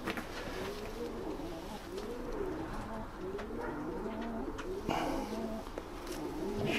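Several Janssen-line racing pigeons coo repeatedly in soft, rolling calls, overlapping nearby against a steady background murmur.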